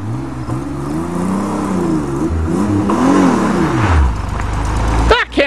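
A Pontiac Fiero with a V6 engine drives close by, loud, its revs climbing and dropping in several swells as it shifts through the gears, then a brief sharp burst of sound at the end.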